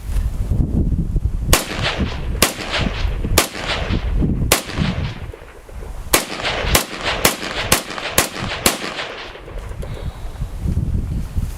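A Yugo SKS M59/66A1 rifle fires about ten rounds outdoors, sharp loud cracks spaced irregularly, some quick pairs, with wind noise rumbling between shots.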